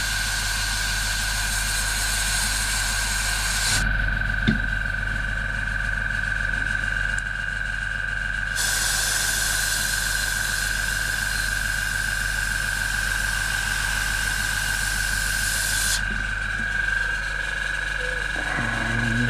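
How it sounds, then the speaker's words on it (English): An air compressor running while lures are airbrush-painted: a loud, steady mechanical drone with a constant tone, and a hissing layer that cuts in and out in long stretches. "And the compressor's having a bloody fit."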